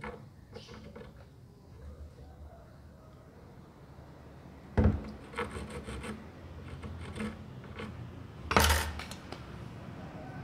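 Quiet rasping and scraping of guitar wood being shaved and sawn during a guitar setup, with a couple of sharper knocks; no voices.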